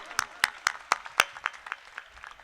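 Scattered hand clapping from a small audience at a community speech event: a few sharp, separate claps in an uneven rhythm that thins out over two seconds, fairly faint.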